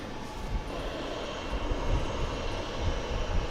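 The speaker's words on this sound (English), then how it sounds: "Flight 1536, an Airbus A320. This is going to Des Moines." A steady, moderate jet engine roar comes from an Airbus A320 airliner on flight 1536 bound for Des Moines as it takes off from Dallas Fort Worth Airport, with some slight rising surges and no voices.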